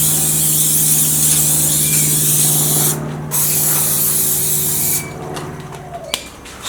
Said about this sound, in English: Just spray a little bit of olive oil on it